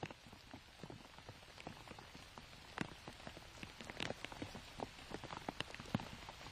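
Steady rain patters across the ground throughout a disc golf round in the final round of a championship, with dense, irregular drop impacts, some louder nearby hits, and no talking.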